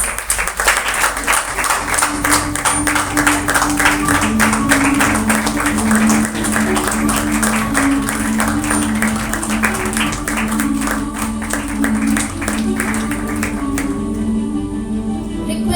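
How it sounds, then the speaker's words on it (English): Thunderous audience applause at a hospital award ceremony, sustained crowded clapping for over ten seconds over a steady tonal background, tapering off near the end. "A thunderous applause."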